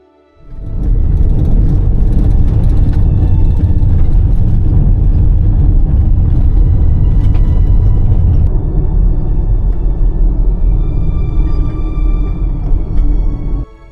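Subaru car cruising down a highway on a long drive toward the Arctic Circle, a loud continuous low engine and road rumble with steady tire whir that starts abruptly and holds without a break.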